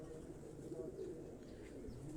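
Pigeons belonging to a Quetta pigeon keeper coo softly in low, murmuring tones, faint and close, against a steady background hum.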